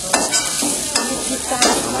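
Tofu and eggs being stir-fried for Thai-style Phad Thai noodles, with a steady close sizzle and three sharp scraping stirs of the spatula at regular intervals, no talking.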